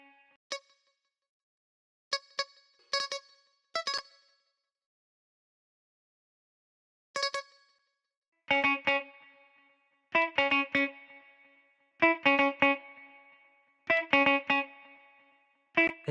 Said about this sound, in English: let's add the simple guitar melody